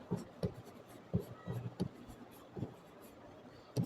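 Pen scratching on paper in short, quick strokes, faint and close, with brief pauses between marks during a science lesson.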